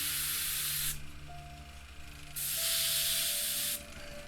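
Airbrush spraying Necrotite green paint onto small fireball tips on a miniature, two bursts of close, bright hiss with a quiet pause between them and a faint background hum.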